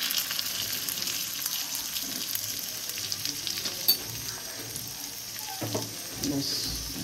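Bhetki fish roasts in butter in a pan, giving a steady close sizzle with occasional stirring clinks and spatters, no voices.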